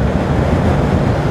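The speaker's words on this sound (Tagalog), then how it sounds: "Grabe lakas ang hangin." A strong, cold wind roars against a microphone on an outdoor ride toward Antipolo, Rizal, giving a dense, steady rumbling buffet with no speech.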